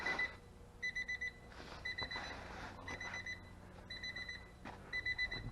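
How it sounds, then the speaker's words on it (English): Repeating electronic chime from a 1992 Honda Prelude warning that the key is left in the ignition, sounding in steady evenly spaced bursts of high beeps, clear and close, with no talking. "Got that Honda beep when the key's in there."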